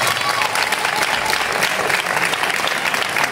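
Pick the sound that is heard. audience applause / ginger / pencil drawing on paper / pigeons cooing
audience applause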